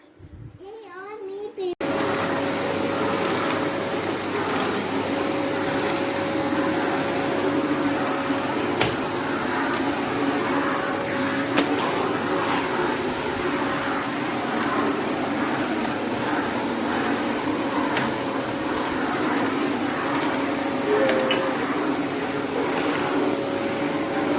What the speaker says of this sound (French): Un petit aspirateur en top qui fait pas beaucoup de bruit avec les petites pièces